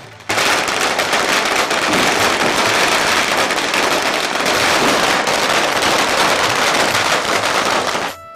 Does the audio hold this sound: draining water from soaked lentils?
no